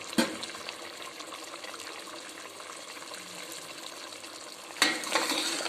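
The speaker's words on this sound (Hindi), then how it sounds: "कोफ्ता में उबाल आ चुका है।" Beef kofta curry bubbles in a pot at a steady low simmer, with a brief clatter from a utensil at the start and again near the end.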